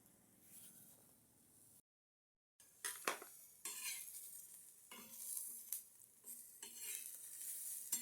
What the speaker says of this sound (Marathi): आज मी पहिल्यांदा एक कांदा कापून भाजून घेतो